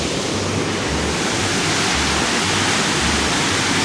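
Water rushing over the Leevaku dam, a loud, steady roar of falling water with no break.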